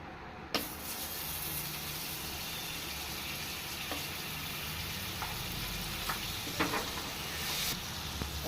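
Butter melting and sizzling in a heated pan on a stove, a steady close crackle running throughout with a few brief scrapes and clicks.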